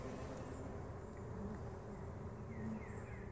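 A steady, low hum of honey bees rises from a hive frame during a ten-day inspection of a swarm colony taken from inside a mobile home, faint and continuous without talk.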